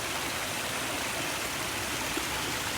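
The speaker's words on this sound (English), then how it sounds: "But the sound of that water" A stream on an early-morning walk in the rain rushes in a steady, even wash of flowing water, close and constant, with no breaks.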